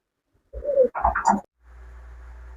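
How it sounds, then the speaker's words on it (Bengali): A pair of satin pigeons coos close by, two short throaty bursts of cooing followed by a steady low background hum. "প্রথমে আপনারা দেখতে পাচ্ছেন এক জোড়া শাটিন কবুতর"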